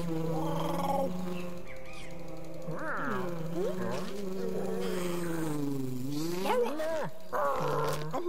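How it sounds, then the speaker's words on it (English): A bee buzzing in the video game Samorost 3, a continuous wavering drone that slides up and down in pitch for several seconds, loud and close and without talk. "Now I'll get the bee over here."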